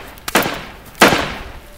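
Two sharp gunshots in a short film, spaced about a second apart, loud and close with a brief echoing tail after each.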